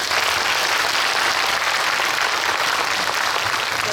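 A cinema audience at a stage greeting for the Korean film Namhansanseong applauds loudly and continuously, dense clapping filling the hall without pause.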